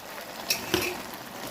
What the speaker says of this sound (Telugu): ఇదిగో ఇప్పుడు ఏం చేయాలంటే వేయించి పెట్టింది గోబీ కాలీఫ్లవర్ ఇందులో వేసేయాలి.